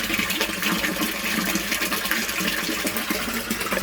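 Mains water gushes steadily into a fish pond, a loud continuous rushing and splashing with no pauses, sped up.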